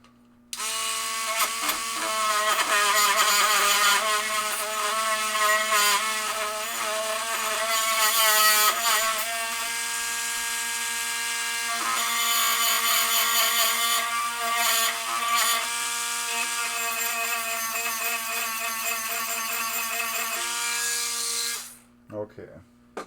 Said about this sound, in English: Dremel.